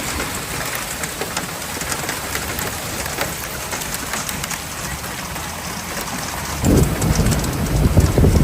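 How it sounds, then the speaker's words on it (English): Heavy rain pours in a powerful hailstorm, a loud, dense roar of water striking surfaces that swells further in the last couple of seconds, with no voices. "A powerful hailstorm"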